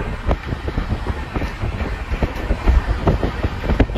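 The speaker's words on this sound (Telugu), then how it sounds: "మన జనశతాబ్ది ట్రైన్ అయితే 130 km/h స్పీడ్ తో అయితే దూసుకుని వెళ్తుంది." A Jan Shatabdi Express train on the Vijayawada–Chennai line running at about 130 km/h, heard from inside as a steady loud rumble with rapid rhythmic wheel clatter and wind rush throughout.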